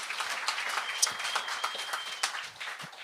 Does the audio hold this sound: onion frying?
no